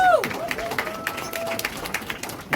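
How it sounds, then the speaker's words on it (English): Brief clapping from an awards audience honouring nominees at the Baton Awards, House of Lords, scattered and moderately loud over 2.6 seconds, with a tonal voice-like sound at the start. "Round of applause for our nominees"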